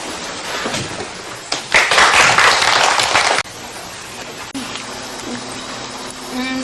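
Classroom applause after a presentation, a burst of clapping rising sharply, holding for a couple of seconds and then cutting off, with quieter background sounds and some talking before and after.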